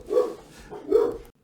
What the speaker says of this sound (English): When my dogs decide there's a threat somewhere around, they're not fully satisfied until they can go out.